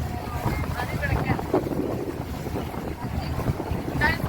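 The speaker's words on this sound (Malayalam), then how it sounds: "കുറച്ചും കൂടി ഞാൻ അടുത്തേക്ക് എടുക്കുന്നുണ്ട് ബോട്ട്." A boat motors across the water near Bur Dubai, a constant rumbling rush with wind buffeting the microphone throughout.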